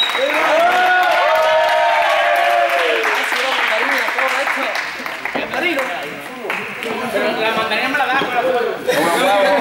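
Audience applause mixed with loud overlapping voices and chatter, a lively crowd clapping and calling out over most of the stretch.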